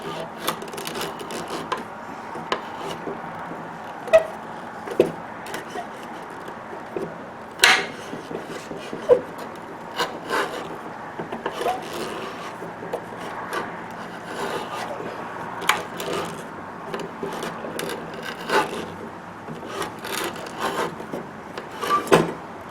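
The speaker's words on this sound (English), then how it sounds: "you take the tapered ream and you keep shaving the hole at the proper angle" A tapered reamer shaving a drilled leg hole in a wooden Windsor chair seat, a steady rasping, scraping cut with repeated rhythmic strokes and occasional knocks, close and fairly loud with no talk.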